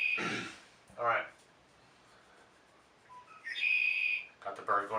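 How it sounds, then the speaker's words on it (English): A bird clock going off indoors, giving out a few bright, whistling chirps in separate bursts with quiet gaps between them. "Got the bird going off in the background,"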